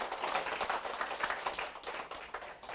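An audience at a seminar claps, a quick run of light, irregular hand claps that sound thin and distant for a few seconds, without speech.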